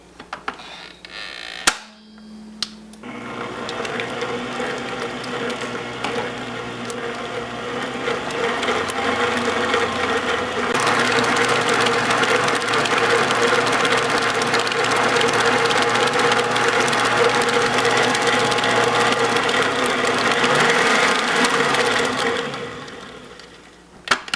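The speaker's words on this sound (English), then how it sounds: "Then I'm going to add in my eggs and then I'm going to let that mix for a minute." An electric mixer beats eggs into sweet potato pie filling. Its motor gives a steady whirring drone that runs close and continuous for about twenty seconds and grows louder partway through.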